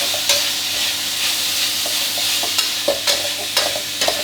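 Pork belly with lemongrass stir-fries over high heat, a continuous bright sizzle broken by repeated sharp spatula scrapes and clacks against the pan, close and loud with no voices.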